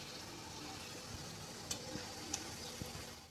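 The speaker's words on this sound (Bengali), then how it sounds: "মিডিয়াম আঁচে আমি পুটুলিগুলোকে ব্রাউন করে ভেজে নিচ্ছি।" Putuli sweets frying brown in oil over medium heat make a faint, steady sizzle with a few soft pops and crackles, heard alone without any voices.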